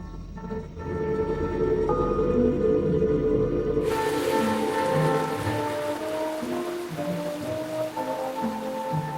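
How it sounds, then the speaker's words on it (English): Steady torrential rain pours over a coastal conifer forest, a broad continuous hiss under a soft, slowly shifting orchestral score after an abrupt change partway through. "On the northwest coast, torrential rainfall creates a vast forest."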